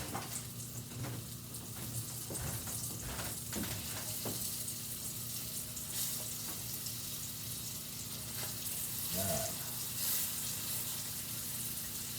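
Salmon fillets frying in a pan, a steady soft sizzle with scattered pops and a few clinks, heard fairly faintly against a constant background hum.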